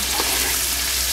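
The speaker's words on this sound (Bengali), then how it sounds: "মাংস ভাজা হয়ে গেছে" Pieces of poultry chicken frying in oil give a short, steady sizzle, heard close up with a low hum running underneath.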